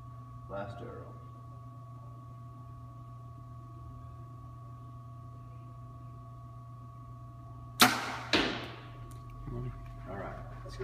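An arrow shot from a bow strikes fresh paper target, giving two sharp, close cracks about half a second apart over a steady low hum.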